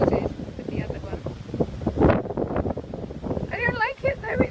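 Gusty wind buffets the microphone on the Cornish cliffs by old engine houses, a rough, loud rumble that rises and falls while people talk nearby.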